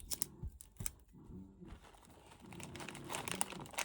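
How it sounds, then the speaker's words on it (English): Adhesive tape pulled off a roll and pressed down while assembling an Easter basket: short crinkly tearing rips and rustling, close and fairly quiet, in irregular bursts. "Put some tape on."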